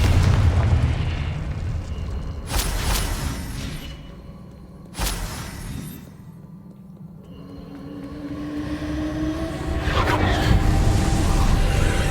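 Fiery spell blasts from the Hogwarts Legacy video game, with two sharp booming bursts followed by a rumbling, roaring rush of game sound effects that swells again near the end, all fairly loud.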